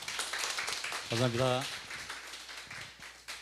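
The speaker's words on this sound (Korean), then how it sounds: "여러분 큰 박수 부탁드립니다" An audience claps at a book talk on quantum mechanics, a dense, steady patter of applause running throughout while a voice briefly speaks over it.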